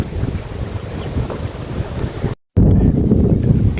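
Strong wind sweeps a campsite on Mount Penanggungan after rain, a steady broadband roar buffeting the microphone with a brief dropout to silence midway before the gusting resumes just as loud.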